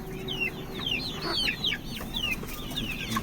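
Several desi country chickens at a poultry farm cluck and chirp in quick, overlapping bursts, fairly close, with a steady low background hum and no talking.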